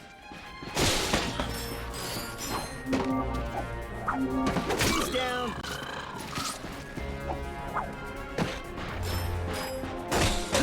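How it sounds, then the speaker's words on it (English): Repeated sharp smashing and thudding impacts as crates are smashed in the video game Ratchet & Clank on PS4, in a busy game soundscape, with a brief spoken remark partway through. "Look at him smashing crates."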